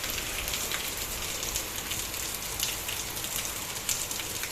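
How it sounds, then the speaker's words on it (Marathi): Heavy rain with strong wind pours down in a dense, steady hiss, drumming on surfaces without letup. No voices are heard. "खूप जोरात आहे पाऊस वारं पण खूप आहे आणि पाऊस पण खूप आहे खूप जोराचा पाऊस आहे"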